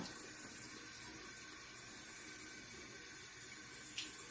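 Steady running water from a tap, rinsing a pet snake's mouth, a continuous close hiss with no talk.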